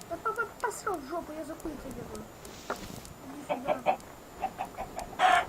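Chickens in the video game Minecraft cluck in short, bouncy bursts, several in quick succession and then more scattered, fairly soft with a few other game noises around them.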